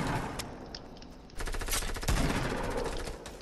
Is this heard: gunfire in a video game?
yes